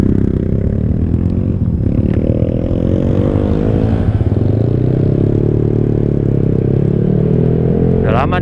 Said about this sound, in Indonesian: Udah lama nih gak diajak olahraga nih motor.